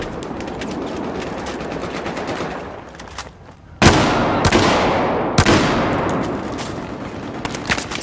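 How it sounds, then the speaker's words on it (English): Shotgun blasts in the video game Gun Master: two sharp, loud booms and a third close behind, each with a trailing decay, over a steady bed of game noise and distant firing. "Somebody is here with the shotgun."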